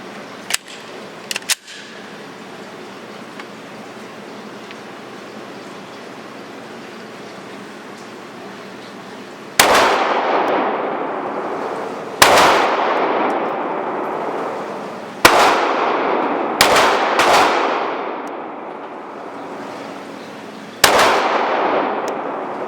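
Shots from an HK VP9 pistol at an outdoor shooting range: about six loud, sharp cracks at irregular intervals, each with a short decaying echo, preceded by a few faint distant pops and no speech.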